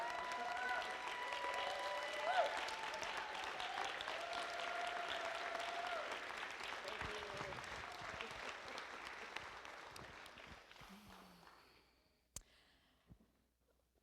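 An audience at a joyful afternoon benefit concert gives a long round of applause, with dense clapping and some voices mixed in, fading out after about ten seconds to near silence with a few stray claps.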